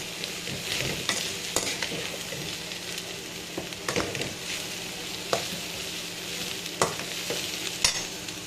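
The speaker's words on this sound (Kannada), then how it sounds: "ಕಲರ್ ಚೇಂಜ್ ಆಗ್ತವೆ, ಆವಾಗ ತನಕ ಫ್ರೈ ಮಾಡ್ತಾನೇ ಇರಬೇಕು" Bitter gourd curry (palya) frying in a pan, a steady sizzle with repeated scraping clicks of a spatula stirring throughout, close up and without speech.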